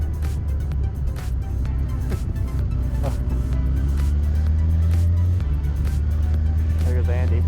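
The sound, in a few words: Yamaha R6 superbike riding and spinning in beach sand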